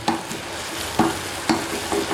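Spices tempering in hot oil in a pan, a close, loud sizzle with repeated bursts of crackling as the mixture is stirred, no voices.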